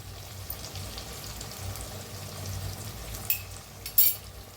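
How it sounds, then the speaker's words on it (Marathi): Coriander powder and spice masala roast in an oiled pan with a low, steady sizzle, broken near the end by a couple of brief scrapes or stirs. "धना पावडर मसाला भाजून घेऊया"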